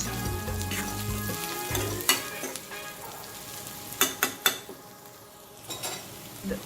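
Garlic and curry leaves sizzle steadily in hot oil in a pan, with a few sharp clicks and scrapes of a spoon stirring the ingredients through the frying.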